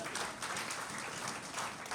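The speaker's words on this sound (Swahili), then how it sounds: "Makofi kwa Yesu Kristo mwokozi wetu." A church congregation applauds, a dense, even wash of clapping from many hands that fills the room throughout.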